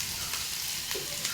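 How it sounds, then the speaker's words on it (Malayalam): Mustard seeds splutter in hot oil with curry leaves, tempering for a mussel stir-fry. A dense, even sizzle carries a few sharper pops over a short stretch, and no one speaks. "കടുക് പൊട്ടിയിട്ടുണ്ട്"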